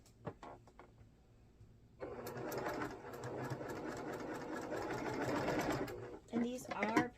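Sewing machine stitching small quilt pieces, a steady rapid mechanical rattle running for about four seconds between quieter handling sounds and brief clicks, with speech nearby.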